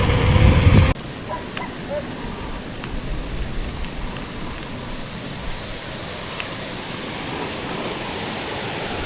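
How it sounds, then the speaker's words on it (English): Small waterfall trickling beside a hilly mountain bike trail near Llangollen in North Wales, a steady broadband rush of water with wind noise, after a brief louder burst at the start. "Some water in that little fall."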